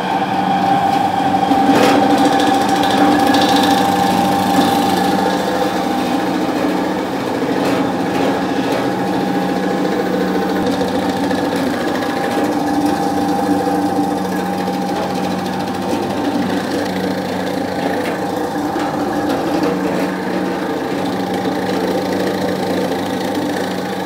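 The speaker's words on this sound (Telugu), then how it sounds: "ఇప్పుడు నేను ఒక చిన్న మిషన్లో వేస్తాను, అంటే ఆ మిషన్లో వేస్తాను, స్కిన్ పోతుంది." A small electric machine peels the skin off raw turmeric with a steady, loud whirring hum and a faint rattling inside, running without pause from start to finish.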